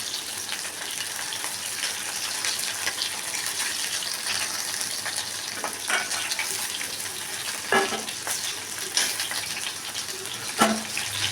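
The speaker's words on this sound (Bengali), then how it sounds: "এবার এগুলো ভালো করে ভেজে নিচ্ছি" Pepper-and-vinegar marinated chicken fries in a pan with a continuous, fairly loud sizzle and a few brief spatters and knocks toward the end, with no voices.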